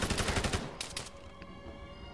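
Gunfire in the video game Arma 3, with a quick burst of rapid automatic shots followed by a couple of sharper single reports and a fading echo, moderately loud and with no talk.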